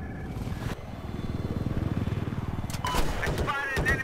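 An enemy helicopter in the AcesHigh video game, its fast rotor chop pulsing steadily at mid volume under in-game noise, followed by sharp bursts of gunfire and a voice speaking.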